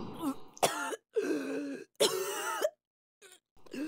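A person chokes on a gulped drink of roasted-mango sherbet and coughs hard in several loud, close bursts separated by short gaps, ending with a fainter cough.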